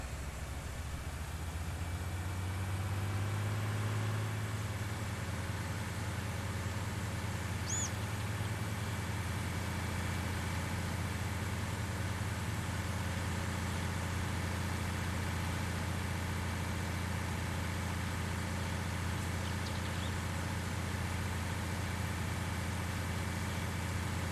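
Tractor or farm vehicle engine idling in Farming Simulator 19, a steady low, droning rumble that swells slightly in pitch early on before settling into a constant hum with no talk.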